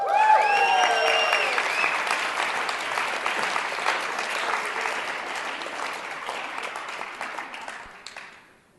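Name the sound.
audience applause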